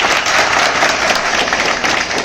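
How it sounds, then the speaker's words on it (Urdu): A seated audience at a speech-style religious gathering breaks into loud, dense applause, a continuous wash of many clapping hands filling the whole moment without pause. "زوردار تالیاں بجائیں."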